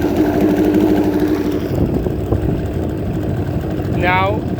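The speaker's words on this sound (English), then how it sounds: "Engine still runs." A motor pushes a modified Intex Excursion 5 inflatable boat along, making a steady mid-pitched drone with wind and water noise. A voice speaks over it, and a short rising whistle-like chirp comes near the end.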